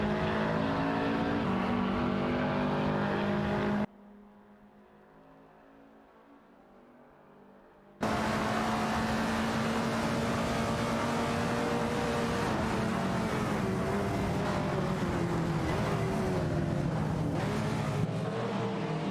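Race cars overtaking in an AI racing video game give a continuous engine drone with shifting revs, which drops to a faint hush for a few seconds before the roar snaps back and carries on steadily.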